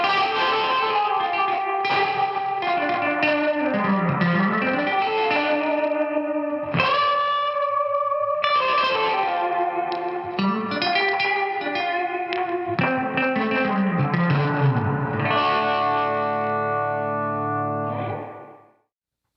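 Electric guitar run through a Boss RE-20 Space Echo with deep reverb cranked high, individual notes swelling with a touch-wah quality and washing into long, smeared echo tails, sustained for the whole passage before fading out.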